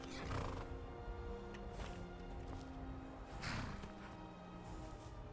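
A horse in the modded fantasy game Skyrim Special Edition lets out a couple of shrill whinnies with light hoof clops, fairly close and clear, with no one talking.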